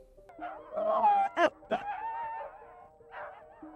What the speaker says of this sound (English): What probably sounds like terrifying, painful howls to any normal person are actually yelps of unbridled excitement to a dog sledder.